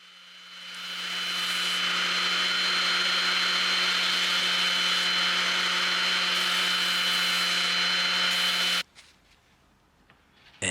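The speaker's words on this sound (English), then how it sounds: "I then can use my orbital sander to round it off." Orbital sander rounding off a wooden edge while restoring a pot cupboard, a steady high whirring drone that ramps up, runs evenly, then cuts off abruptly into near silence.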